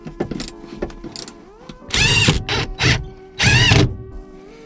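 Racing seat being bolted into a G35, with a run of clicks and creaks followed by three loud ratcheting bursts up close, as from a wrench or impact driver.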